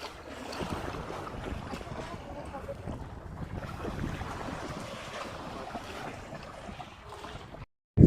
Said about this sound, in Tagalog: napakalakas po talaga ng hangin dito